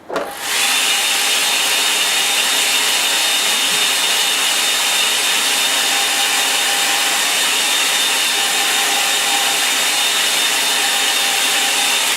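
Hair dryer blowing to dry paint in a studio at the top of a house, switching on abruptly and then running as a loud, steady, close roar throughout, with no talking.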